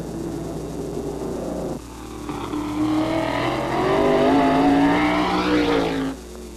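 A 1989 pro stock race car at Lee USA Speedway fires up and revs, a loud close engine climbing in pitch through a rising rev before cutting off abruptly near the end.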